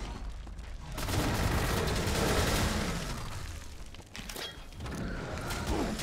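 Gunfire and explosions in the retro shooter Wrath: Aeon of Ruin, a dense rumbling barrage of shots and booming blasts that swells, dips briefly, then picks up again, loud and continuous with no talking.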